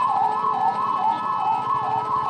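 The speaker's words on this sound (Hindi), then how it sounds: "एम्बुलेंस को साइड दो रे बाबा, एम्बुलेंस को साइड दिया" An ambulance siren wails in a steady rising-and-falling cycle on a Mumbai street during a lockdown bike ride, loud and close, over traffic hum.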